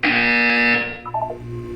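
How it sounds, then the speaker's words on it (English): A loud, harsh electronic buzzer from the video game Portal 2 blares steadily for under a second, then gives way to a few softer tones. "You will hear a buzzer."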